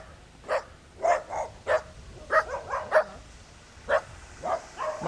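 A dog barks about a dozen times in sharp, uneven bursts, some doubled, at moderate distance outdoors around a rural house with trees and plants; no voices are heard.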